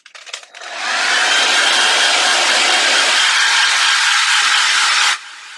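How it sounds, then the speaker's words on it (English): A hair dryer switches on and blows with a steady, loud whooshing roar for several seconds before cutting off abruptly. "now I'm just going to use my hair dryer"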